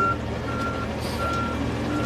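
A garbage truck reverses with a repeating high electronic beep, evenly spaced pulses over a low engine rumble and street noise, at moderate distance.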